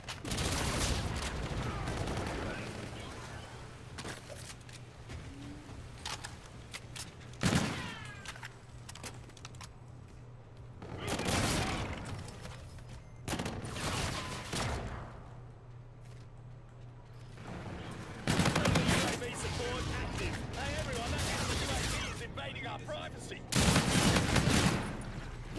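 Sniper rifle shots in a first-person shooter game ring out in several sharp, loud bursts spaced a few seconds apart, with someone talking between them.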